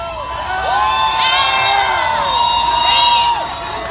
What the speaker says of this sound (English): I didn't expect an applause for that.